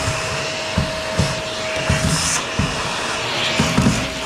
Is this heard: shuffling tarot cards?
no